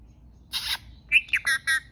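A parrot squawks up close: one harsh, sustained burst followed by a quick run of three or four shorter squawks, all loud and clear with no talk over them.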